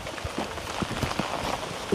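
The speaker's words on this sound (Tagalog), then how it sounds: "Takas pa naman ng ulan." Steady rain falls on a summer day in Calgary, Alberta, a dense continuous patter with scattered louder drops and no voices.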